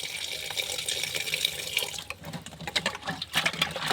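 Kitchen tap water runs steadily onto raw chicken in a sink, splashing changes as the pieces are rinsed, close and continuous with no talk.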